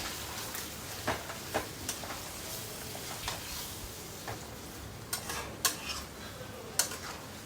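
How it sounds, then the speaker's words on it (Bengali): Meat being stir-fried and reduced in oil in a pan, with a quiet steady sizzle under occasional scraping stirs of a spoon against the pot, no talking. "আমরা এই মাংসটা ততক্ষণ কষাবো যতক্ষণ না এর মধ্যে থেকে তেল বেরোচ্ছে"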